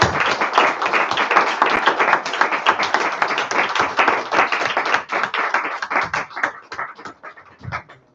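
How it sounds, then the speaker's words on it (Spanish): A church congregation at a Sunday worship service applauds together in sustained, fairly loud, even clapping. It holds steady for several seconds, then thins out into scattered claps near the end. "Un aplauso para el Señor."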